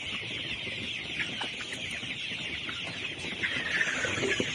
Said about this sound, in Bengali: এই মুরগিগুলো কাজের হাইসেস ব্রাউন বাচ্চা